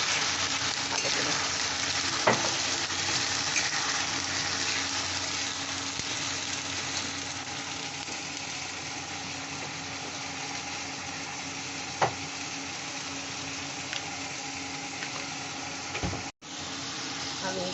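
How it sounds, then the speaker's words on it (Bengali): Ginger-garlic and onion paste frying in oil for a mutton dish, a continuous bright sizzle with occasional utensil taps and a brief dropout near the end. "আদা রসুন বাটা দিয়ে দিলাম। আর এইখানে পেঁয়াজ বাটাটা আছে, সেটাও আমি দিয়ে দিলাম কিছুটা। দিয়ে এবার আমি কষে নেব ভালো করে।"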